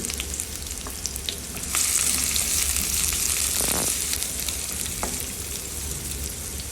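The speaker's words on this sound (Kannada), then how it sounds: "ಆಯಿಲು, ಮಸ್ಟರ್ಡು, ಆನಿಯನ್ನು ಆ್ಯಂಡ್ ಶೇಂಗಾ ಬೀಜ ಆ್ಯಂಡ್ ಗ್ರೀನ್ ಚಿಲ್ಲಿ ಇಷ್ಟು ಹಾಕ್ಕೊಂಡು ನೀಟಾಗಿ ಫ್ರೈ ಮಾಡ್ಕೊಳ್ಳಿ" Mustard seeds, onion, peanuts and green chilli frying in oil for avalakki oggarane, a steady close sizzle that swells louder partway through with a few stirring knocks, no voices.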